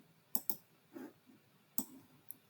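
A few sharp, distinct clicks of keys on a computer keyboard, including an enter key press, spaced irregularly and faint in a quiet room, with no voices.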